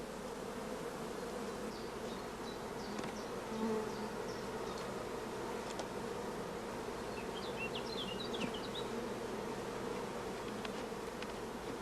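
Honey bees inside a beehive during queen rearing make a constant low humming buzz, fairly faint and even throughout, with scattered higher flickers of individual bees close by.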